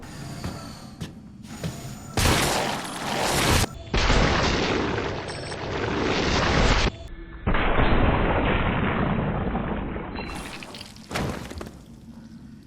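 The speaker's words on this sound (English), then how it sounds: "I'm going to perform my Magnum tradition, which is executing a critical headshot using a Magnum on a standard enemy." Magnum handgun shots in a video game, several loud booming blasts each followed by a long ringing decay, spaced irregularly through the stretch with quieter game ambience between them.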